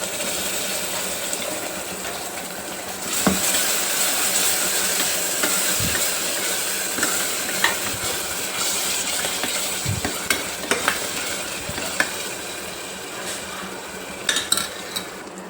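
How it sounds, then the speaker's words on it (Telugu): Turmeric, cashew, poppy seed and tomato masala for an aloo tomato gravy fries in a pan with a steady, close hiss, punctuated by scattered clinks and scrapes of a spoon stirring against the metal. "మసాలా మంచిగా వేగింది కదండి"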